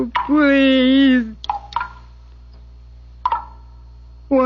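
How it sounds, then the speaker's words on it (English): Water drips off a big leaf in a radio drama, heard as a few sparse, sharp plinks spaced irregularly after a brief voice sound at the start. "It's dripping off that big leaf."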